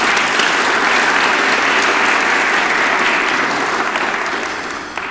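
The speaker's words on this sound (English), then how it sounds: "Can we give them a round of applause again" Dense, sustained audience applause for City Council, a steady wash of many hands clapping that fades slightly toward the end.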